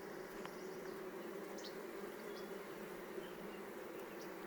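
Honey bees buzzing inside a hive's honey box, a continuous faint droning hum with occasional individual bees passing close by.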